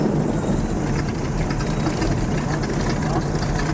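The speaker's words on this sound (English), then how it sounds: "Under power, you won't hear the engines, it's the propellers you're going to hear." An airboat's propellers roar under power on an Everglades tour in Florida, a dense, loud, steady rushing drone with engine rumble underneath.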